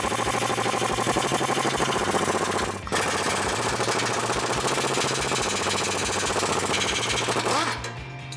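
An impact wrench hammers loudly and continuously on a 18 mm socket, rattling out differential bolts on a 2009-2014 Ford F150 during a suspension lift, with a brief break midway before the loud hammering resumes.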